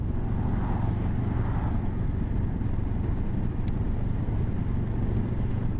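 A 2024 Benelli 702 TRK motorcycle engine drones steadily in fifth gear at low speed, a dense low rumble mixed with constant wind rush, loud and unbroken throughout with no talking.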